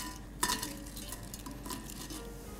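Scampi heads fry in a pan with carrot and celery for a risotto, giving a steady, close sizzling hiss broken by a few metallic clinks and stirring sounds from a utensil.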